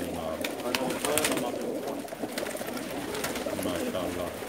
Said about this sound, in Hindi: ये हैं जनाब इनके कबूतर हैं, 2000 के करीब हैं इनके पास।